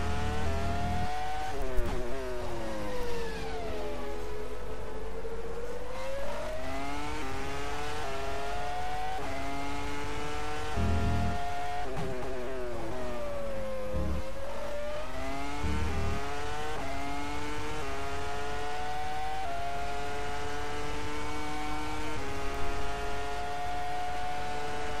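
Race car engines in a bumpy-track sim racing game heard onboard, a continuous loud engine drone whose pitch climbs and falls with repeated revving and gear changes over the whole stretch, with no talk.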